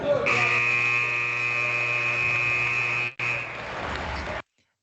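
A loud, steady electronic buzzer ends a sports podcast episode, holding a harsh tone for about three seconds, cutting out briefly, then sounding again before stopping abruptly.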